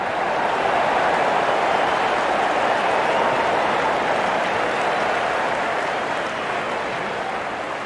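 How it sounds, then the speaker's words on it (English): A virtual stadium crowd in the cricket game Real Cricket 24 cheers and claps in a steady, even wash of noise that holds at a moderate level throughout, with no talk over it. "The crowd is enjoying every bit of this action."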